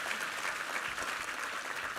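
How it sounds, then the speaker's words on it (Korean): A church congregation claps together at a Christmas service, a short, steady burst of applause from a crowd at moderate distance, with no voices over it. "우리 하나님께 감사와 영광의 박수 올려드리겠습니다."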